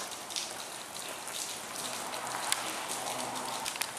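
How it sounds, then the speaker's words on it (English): Rain falling steadily outdoors, with raindrops striking a camera up close: a dense, soft patter of small crackly hits running continuously throughout, with no voices. "The camera just got owned in the face by a raindrop."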